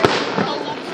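Fourth of July fireworks burst loudly at close range, a sharp crack followed by a dense, roaring crackle that fills the whole moment.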